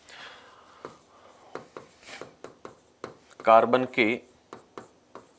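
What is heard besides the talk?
writing notes during a chemistry lesson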